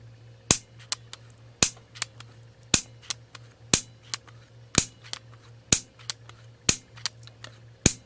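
A barbecue igniter wired to fire a neon bulb snaps in a long, steady series of sharp clicks about once per second, each main click followed by fainter ticks, close and alone over a low steady hum.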